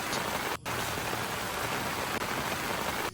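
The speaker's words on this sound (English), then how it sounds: "As soon as I set up the pop-up tent, it started raining heavily, and the rain continued well into the night." Heavy rain drumming on a pop-up camping tent, a steady dense hiss of drops with brief dropouts, close and continuous with no voices.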